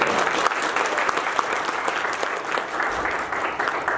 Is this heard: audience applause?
yes